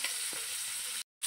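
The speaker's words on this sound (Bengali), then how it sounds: "আর এই মাছের তেলটা দিয়ে হবে এই শাপলা ভাজা।" Water lily stems frying in oil left over from cooking fish, a close steady hiss of sizzling with a brief stir, cutting out abruptly near the end before resuming.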